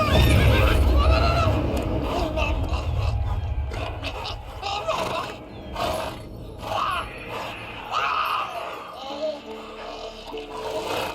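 A horse in The Witcher 3 whinnies and its hooves thud, heard close amid game ambience, with spoken voices around it.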